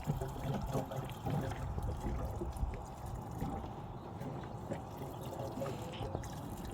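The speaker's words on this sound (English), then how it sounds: "Gallon of fresh premix going in." Premix fuel pours from a gallon container into a Yamaha XL1200 jet ski, a faint, continuous liquid gurgle and trickle that runs steadily throughout.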